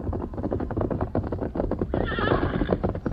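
A horse neighs and whinnies with the clatter of hooves, a loud, close call over steady clip-clop in an old radio western drama.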